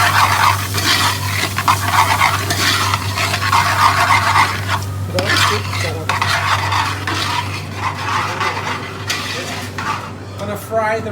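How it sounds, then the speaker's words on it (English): Rice stirred and fried in ghee with onions, ginger and spices for mutton biriyani, a loud continuous scraping and sizzling close up, with spoon-on-pot clinks throughout and no voices. "Gonna fry the rice in that ghee."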